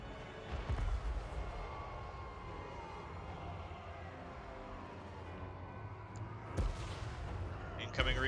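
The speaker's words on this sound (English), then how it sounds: "Cannon! This can now go after that fort tower." Video game cannon fire aimed at a fort tower, with a heavy boom near the start and two more later, over a continuous rumbling battle din; someone talks throughout.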